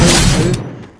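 A single loud, close gunshot in the battle royale game Free Fire, a sharp boom that rings briefly and fades within about a second.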